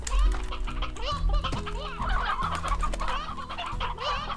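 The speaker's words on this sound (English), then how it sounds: "I don't wanna give my meat chicken away." Chickens in Slime Rancher cluck continuously in a busy farmyard chorus, close and steady, with no voices over them.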